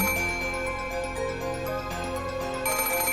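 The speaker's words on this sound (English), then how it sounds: "the ring of the phone, which had sounded like a scream for help" A telephone rings steadily in the Umineko visual novel game, a repeating electronic tone layered over continuous background music, loud and sustained throughout.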